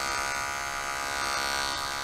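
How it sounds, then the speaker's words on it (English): Electric clippers shave the fur on a dog's feet, a steady close buzzing drone that runs continuously without pause. "Just shave his little feet"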